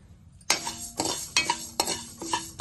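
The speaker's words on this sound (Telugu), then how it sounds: "ఒక స్పూన్ జీలకర్ర రెండు స్పూన్లు ఆవాలు వేపుకోవాలి" Cumin and mustard seeds fry in a pan for Telugu chicken pickle, sharp metallic stirring scrapes and clinks striking about every half second over a soft background sizzle.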